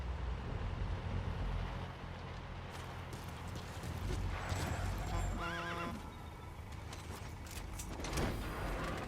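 The horse D-Horse in the video game Metal Gear Solid V whinnies once midway, a clear drawn-out neigh over faint clip-clop hoofsteps and ambient game noise.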